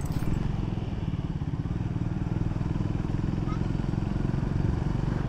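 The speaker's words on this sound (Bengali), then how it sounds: "ইঞ্জিন ভাইব্রেট করছে, ইঞ্জিন হাই র্যাব করছে।" A motorcycle engine running at high revs vibrates with a steady, close, rapid pulsing drone that holds even throughout.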